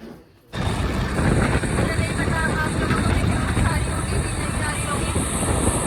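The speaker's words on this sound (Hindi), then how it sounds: "ये बहुत तेज बाइक चला रहा, जो मान नहीं रहा।" A motorbike ridden very fast, heard from on board, gives a loud, constant roar of rushing wind and engine noise that starts abruptly after a brief quiet moment and holds steady.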